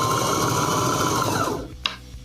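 A sewing machine runs fast over textured, sticky cosplay fabric under the presser foot, a loud close whirring hum that holds steady and then winds down, followed by a single sharp click and quiet.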